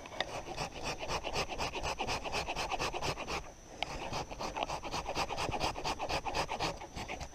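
A small hand sander rasps against a wooden stick being shaved into a feather stick outdoors, with steady, close rhythmic back-and-forth strokes and one brief pause midway.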